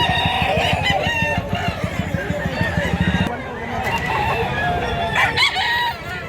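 Roosters crow and chickens cluck at a poultry market in Mantalungon, Cebu, loud and close, with several birds overlapping and people talking among them.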